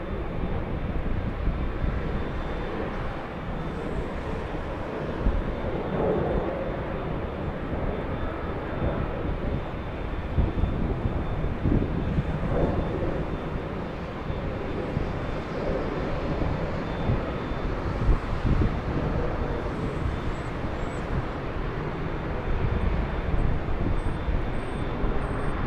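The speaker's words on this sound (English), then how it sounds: "Alright, it's an E175 coming in. Flying in from Bozeman, Montana." A SkyWest Embraer E175 regional jet lands at Los Angeles International Airport after a flight from Bozeman, Montana, with a continuous heavy engine rumble and roar, fairly loud and steady for a long stretch.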